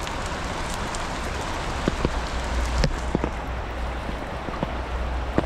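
Steady rain patters on a surface, with scattered louder drops and a low rumble underneath; no talking.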